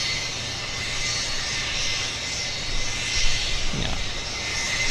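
An airliner climbs away after takeoff from Vancouver Airport, heard as a broad, steady distant roar with no voices.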